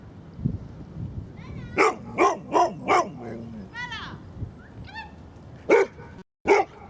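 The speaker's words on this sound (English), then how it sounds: "that noisy dog's in the way" A noisy dog barks on a countryside walk beside a swing gate and a fallen tree, giving a run of four quick barks, then two more sharp barks after a pause, with soft outdoor background between them.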